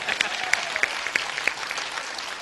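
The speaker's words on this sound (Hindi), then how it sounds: "एक बार जोरदार तालियां सरपंच जी के लिए।" Audience clapping for a village head at a Hindi poetry gathering, moderate crowd applause with a few sharper individual claps standing out, fairly close.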